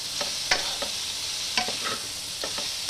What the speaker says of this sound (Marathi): असं वरचेवर आपण त्याला हलवत राहणार आहोत आणि परत झाकून आपण शिजवणार आहोत